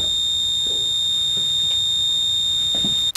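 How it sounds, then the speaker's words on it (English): A plug-in power-loss alarm sounds its buzzer as a loud, continuous high-pitched tone that holds steady for about three seconds before cutting off abruptly. "when you kill the power, the buzzer goes off"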